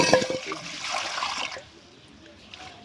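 Tap water runs with a steady splashing rush for about a second and a half, then drops to a faint trickle as the flow is turned down.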